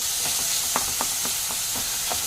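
Chopped tomatoes drop into onions frying in a pan for pasta sauce: a steady, close sizzle and hiss with a few soft stirring clacks and no talking.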